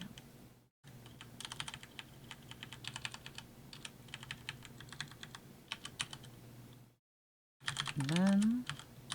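Close, soft clatter of computer keyboard keys in uneven runs, broken by two short silences, with a brief voice near the end.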